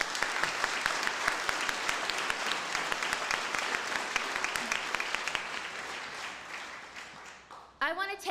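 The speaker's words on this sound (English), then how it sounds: "Let's give them another round of applause for these club showcases today." A luncheon audience at a Boys and Girls Club donor appreciation event gives sustained applause, dense and steady, fading near the end before a voice begins speaking.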